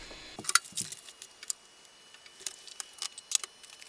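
An Optimus keyboard's connector being plugged into an old computer, a few faint, sharp plastic clicks and small knocks scattered irregularly over a few seconds, close up and otherwise quiet.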